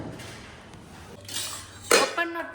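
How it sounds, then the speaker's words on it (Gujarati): Dishes and utensils clatter in a home kitchen: a couple of soft knocks, then a sharper clink of a plate near the end, all fairly quiet and brief. "વાસણનો અવાજ કરતા નહીં"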